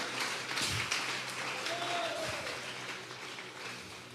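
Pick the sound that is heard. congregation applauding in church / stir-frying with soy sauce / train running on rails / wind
congregation applauding in church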